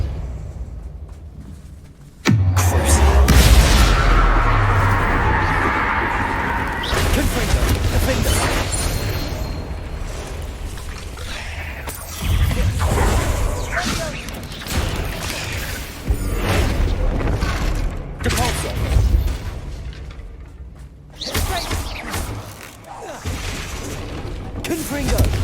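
Spell blasts from Bombarda and Catapulta in Hogwarts Legacy, heavy booming explosions and rumbling impacts in dense, loud bursts across a chaotic battle, with voices in between.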